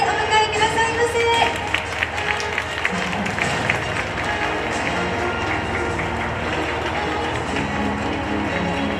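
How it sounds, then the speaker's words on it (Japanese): Applause greets guests at a Blue Ribbon Award ceremony for the SL Yamaguchi steam train's Series 35 passenger cars: sustained clapping from a sizable crowd, fairly loud and steady, with a murmur of voices beneath. "どうぞ大きな拍手でお迎えくださいませ。"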